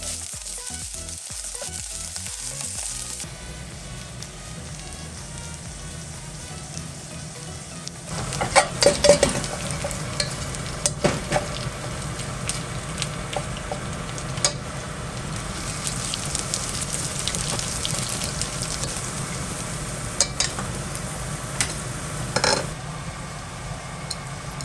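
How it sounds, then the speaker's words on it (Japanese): Wild boar meat frying in a pan on low heat, its fat rendering out: a steady, close sizzle and crackle runs throughout, with occasional louder pops and spatters and a few scraping stirs, no voices. "イノシシ肉を炒めていきます。"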